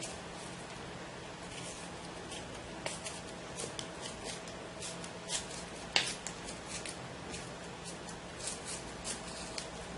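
Paint is being scraped off a shabby chic box to reveal white underneath, making soft, close scratching and rasping strokes in irregular short bursts over a low background hum.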